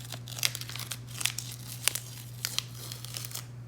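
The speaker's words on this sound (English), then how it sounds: "I'm gonna go ahead and remove my tape from the bottom here first" Masking tape is peeled off the bottom of a work boot after applying liquid epoxy toe protector, giving crisp crinkling tears in short irregular bursts, close and fairly quiet over a low steady hum.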